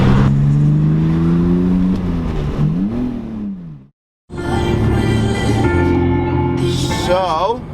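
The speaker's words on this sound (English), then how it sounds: "First time driving the Beamer." A BMW with a manual stick-shift gearbox being driven, its engine droning close and steady with pitch rising and falling through gear changes and a brief drop-out near the middle.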